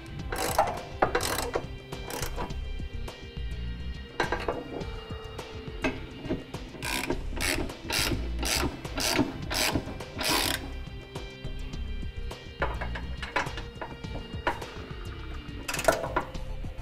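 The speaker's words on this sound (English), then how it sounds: "we can go ahead and tighten it all up and then torque it to the manufacturer's specification" A ratchet tightens the bolts of a Curt trailer hitch receiver on a 2014 Subaru XV Crosstrek, with repeated bursts of sharp, close clicking separated by short pauses and light metallic clinks.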